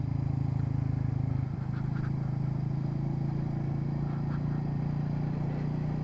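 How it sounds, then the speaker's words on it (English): A Royal Enfield Meteor 350 single-cylinder engine hums steadily while riding, a close, continuous low drone with a slight shift in tone early on and no talking. "enjoy the sound of the engine and a few more scenes as I ride"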